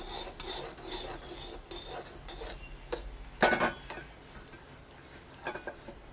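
Til-gul ladoo mixture of sesame and jaggery stirred in a pan, a dry rasping scrape with light metallic clinks and a louder knock partway through, close and alone without talk.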